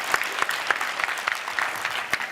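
Audience at an EMBA graduation event clapping steadily for the graduating class, a dense, even patter of many hands in a hall, moderately loud and unbroken.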